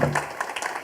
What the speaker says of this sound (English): Can we please have a huge round of applause for him?